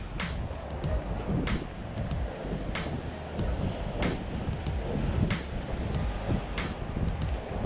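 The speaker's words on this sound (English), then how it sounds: "Oh man, it's super windy over here." Strong wind buffeting close by on the Sonoma County coast, with rushing surf beneath and gusty bursts of microphone wind noise recurring throughout.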